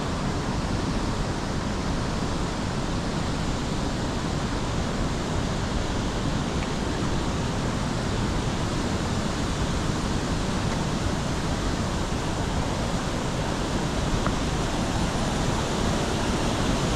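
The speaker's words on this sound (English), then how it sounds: "Definitely a lot of water coming through there" Waterfall at Valley Falls State Park with a lot of water pouring through, a constant broadband roar, loud and close, steady for the whole stretch with no talk.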